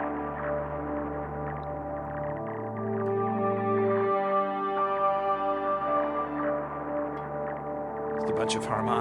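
Sustained, layered bass guitar harmonics, looped through a Boss RE-202 Space Echo, ring out together in a smooth, organ-like drone, with the top notes shifting slightly partway through.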